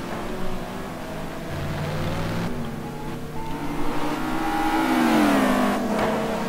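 GT2 race cars on hot laps at Donington Park, a BMW among them, with a steady roar of engines and rising, sweeping pitch as the cars accelerate, loud and continuous throughout.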